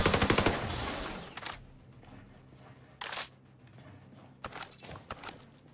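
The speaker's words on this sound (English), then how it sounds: "I assume it was just the drone shooting me" Gunfire from a hostile drone in Ghost Recon Breakpoint: a rapid burst of sharp automatic shots up front, then a few isolated loud cracks spaced seconds apart, with quieter ambient game noise in between.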